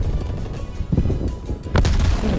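Several booming blasts and gunfire-like bursts in quick succession, with a loud grenade explosion near the end, in Call of Duty: Black Ops Cold War.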